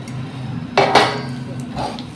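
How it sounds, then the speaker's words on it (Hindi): A spoon scrapes and clinks against a pan while flour is stirred and roasted in ghee for ladoo, a couple of close metallic knocks over a low kitchen hum. "गैस मीडियम करके हमें इसे चलाते हुए भूनना है।"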